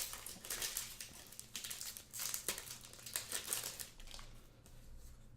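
Transformers TCG booster card packs being torn open, a run of crinkly foil crumpling and ripping noises that come in uneven bursts, close and fairly quiet, with no talking.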